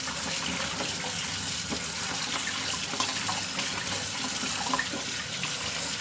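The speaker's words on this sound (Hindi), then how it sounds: "अब चलते हुए पानी से इसको धो लेते हैं अच्छे से" Running tap water pours steadily over taro root (arbi) being rubbed and washed clean, a continuous close gushing splash with no talk.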